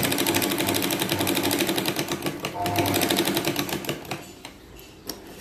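A sewing machine runs steadily, stitching fine piping onto the neckline of a lined katori blouse, its rapid needle rhythm close and continuous before slowing and stopping near the end.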